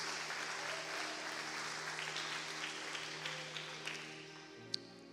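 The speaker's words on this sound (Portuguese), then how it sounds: "Vale um aplauso para Jesus?" A church congregation applauds during a sermon, with sustained, even clapping over faint tonal background sound, continuing throughout at moderate loudness.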